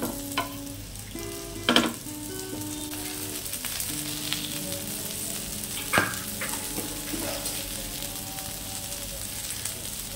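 Steady sizzling of sweet corn tikka frying in a pan over a medium-low gas flame, with a few louder clinks and spatters over the continuous hiss.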